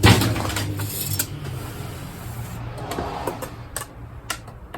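Engine oil being checked with a worn dipstick on a 2007 Buick Lucerne: close metallic clinks, taps and rattles, loudest in a sharp clatter at the start, then lighter scattered ticks.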